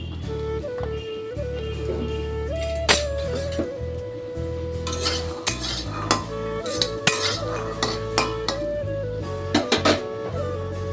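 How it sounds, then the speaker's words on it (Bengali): A metal spatula stirs green peas frying in a wok (kadai), with repeated close scrapes and bright metallic clinks over a low continuous sizzle and hum. "এদিক দিয়ে খুন্তি দিয়ে মটরশুঁটিগুলোকে একটু নেড়ে দিচ্ছি"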